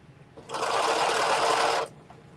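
A sewing machine stitches a hem in one steady burst of just over a second, close and loud, rising and stopping cleanly, with no talk.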